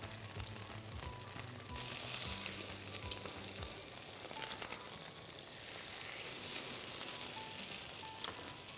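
Brioche slices for pain perdu frying gently in butter in a pan, a steady, even sizzle throughout with faint clinks early on.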